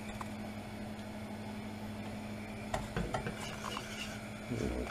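Milk is whisked into a cheese sauce for cauliflower cheese in a pan, producing a soft continuous swirl under a steady hum, with quick metallic taps and scrapes of the whisk growing busier toward the end.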